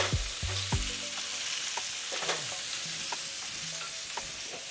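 Salmon and vegetables stir-frying in a pan, a soft steady sizzle under scattered clinks and scrapes of a utensil on the pan, close and fairly quiet, with no speech.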